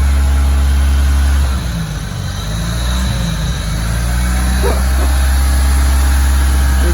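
A turbocharged car engine from an old California estate collection runs and settles into a steady idle, a loud continuous low rumble with a slight dip in pitch partway through, heard alone with no talking.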